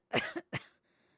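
A man coughs twice in quick succession, close and fairly loud, the second bark shorter, in a cold, damp catacomb vault crusted with nitre; quiet follows.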